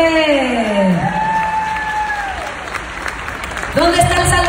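A live audience at a testimony gathering in Phoenix applauds and cheers, with whoops over steady clapping, then a voice calls out over the noise.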